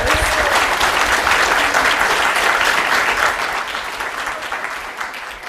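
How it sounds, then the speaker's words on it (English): Loud, dense applause from an audience at a pitch competition, honoring the judges, a continuous wash of clapping that holds steady and then tapers slightly toward the end. "If we could have a round of applause for our judges."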